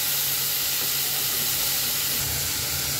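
Steady loud sizzling hiss from a hot pan as tengra fish and taro are stirred and spices are added, continuous and close with no pauses.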